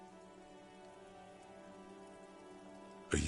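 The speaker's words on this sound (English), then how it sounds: "Rain falls onto the roof of a woodshed." Steady rain patters on the roof of a woodshed in a yard in the Disco Elysium video game, a continuous dense hiss that swells louder near the end, with no voices.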